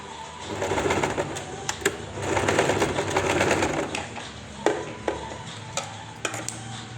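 A sewing machine stitches fabric for a side pocket with a facing, running in close, uneven bursts with pauses and small clicks of handling between them.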